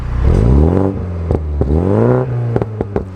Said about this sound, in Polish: jak ten wydech słychać z zewnątrz